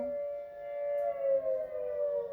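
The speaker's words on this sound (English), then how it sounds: "I have a town siren" A town civil defense siren wails in a steady sustained tone, moderately loud and slightly distant, holding its pitch with a gentle rise and fall and no voices.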